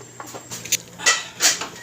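Metal lid set onto a cooking pot of paksiw, a few light clinks and taps building to two sharper knocks as it settles, close by and with no voices.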